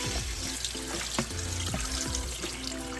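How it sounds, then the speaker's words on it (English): Running tap water from a kitchen sink pours over rice held in a strainer, a steady broadband rush with clanks and handling knocks throughout, close and fairly loud. "So I'm gonna take my rice, drop it in this guy here, whoop, and I'm gonna bring it to the sink and rinse it off."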